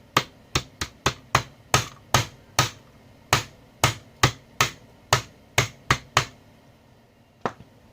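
A hammer pounds repeatedly on a damaged MOSFET, a fast, slightly uneven series of crisp, close knocks that stops, followed by one last isolated tap.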